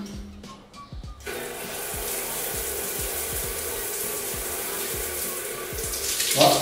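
A 6500-watt electric shower gushes hot water steadily at good pressure after a brief click and hum, a continuous loud hiss with faint rhythmic thuds underneath.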